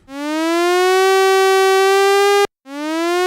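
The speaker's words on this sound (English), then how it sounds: "If we wish the envelope to have the oscillator's sound pitch rise some more, you need to provide even more modulation gain." An Arturia Oberheim SEM V synth oscillator, its pitch pushed upward by an envelope, sounds as a loud, buzzy sustained tone that glides up and holds, cuts off sharply, then restarts with the same rising sweep.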